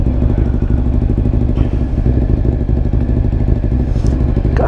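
A Ducati Monster 1100 EVO motorcycle engine runs with a loud, continuous, throbbing rumble and a steady low pulse, close by, with some clatter and no talking.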